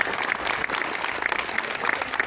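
An outdoor street-corner crowd in La Boca applauds Jorge Altamira at a political assembly, steady full clapping throughout the short burst.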